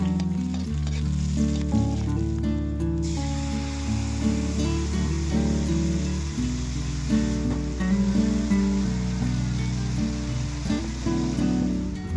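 Taro corms gathered from the mountain fry in used cooking oil left over from frying fish, giving a steady, dense sizzle throughout with a tonal background and no talking.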